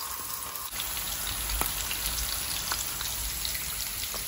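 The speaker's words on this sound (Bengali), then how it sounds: "একটু হালকা করে আমি ফ্রাই করছি" Marinated quail fry lightly in hot oil with ginger, giving a steady crackling sizzle with scattered pops that carries on evenly throughout.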